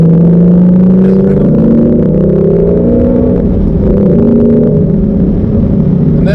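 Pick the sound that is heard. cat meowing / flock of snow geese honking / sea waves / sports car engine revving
sports car engine revving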